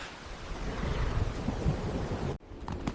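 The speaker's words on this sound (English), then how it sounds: "The sky was torn open by thunder." Thunder rumbles and rolls loudly across a stormy sky with steady rain beneath it, then cuts off abruptly near the end, leaving quieter rain and rustling.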